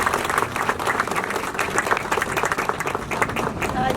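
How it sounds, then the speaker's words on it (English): A warm round of applause from an audience for Cat Colvin, many hands clapping close and busy, with a few voices murmuring faintly underneath. "Please, a warm round of applause for Cat Colvin."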